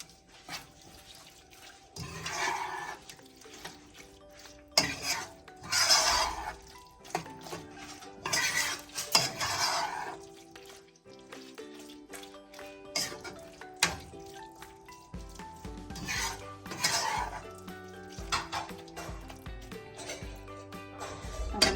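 Squid roast (kanava) being stirred in a pan before serving, with close metallic spoon scrapes and clinks against the pan in irregular bursts, along with some wet, dripping sounds.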